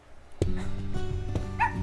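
A puppy gives a sudden yelping bark followed by soft whimpers and a second, fainter yip, close and alone in an otherwise quiet room.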